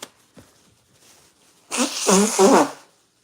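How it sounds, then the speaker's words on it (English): A few faint rustles, then a loud close nose blow lasting about a second, a noisy honking burst into a tissue. "I gotta blow my nose"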